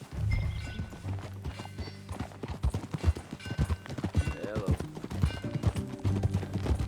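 Rhythmic horse hoofbeats clip-clop steadily up close in Red Dead Redemption 2, with a brief spoken greeting and a horse's whinny partway through.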